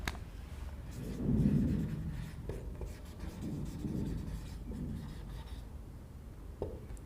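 Marker or chalk writing a question on a board during a civil engineering lesson on water supply systems, with soft scratchy strokes in a few bursts, close and fairly quiet over low room noise.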